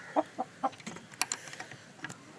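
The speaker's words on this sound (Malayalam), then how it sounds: "ഇത് നല്ല ഇണക്കമുള്ള കോഴിയാണ് ഈ പിടക്കോഴി" A tame hen clucks nearby in a handful of short, separate soft calls spaced irregularly over a couple of seconds, with a little faint background noise and no voices.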